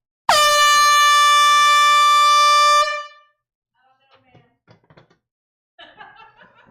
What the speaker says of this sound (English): I'm going to go ahead and blow the air horn for him